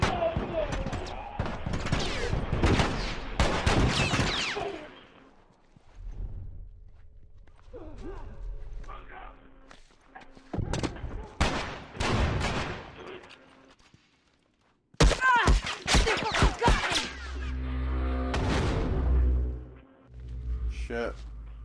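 Gunfire in The Last of Us, loud bursts of rapid shots in several clusters separated by quieter gaps, with players talking between them.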